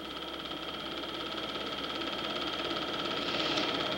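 A 1960s four-cylinder Jeep engine strains off-road during a 1966 four-wheel-drive club outing in northeast Iowa, giving a continuous rough drone with a steady vibrating pulse that swells slightly louder toward the end.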